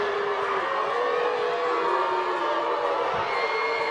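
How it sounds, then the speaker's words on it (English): Home crowd at a Cebu football match, a loud sustained roar of jeering and whistling from the stands, continuous and dense throughout with no clear individual voices. "was given jeers by the Cebu home crowd"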